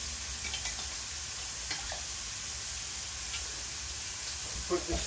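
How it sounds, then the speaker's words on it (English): Pork chop marinade with white pepper is stirred in a bowl, giving soft scattered ticks and scrapes of the utensil over a steady background hiss, with a slightly louder clink near the end. "we're going to mix this until it's well combined"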